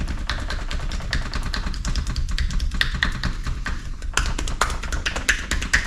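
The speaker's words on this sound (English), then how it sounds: "And then into a little bit of pounding." Rapid pounding massage strokes on a client's body during a sports massage, a dense run of quick rhythmic taps and thuds, close and fairly loud with no voices.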